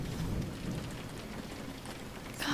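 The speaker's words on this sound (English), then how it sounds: "The rain's very nice." Steady rain pours down, a dense, continuous patter with no voices, swelling slightly louder at the very end.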